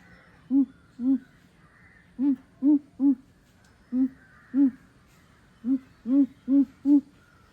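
A seventh-grade boy mimics the call of a male greater coucal with deep, resonant hoots, delivered in spaced groups of two and three, about a dozen in all, close and clear.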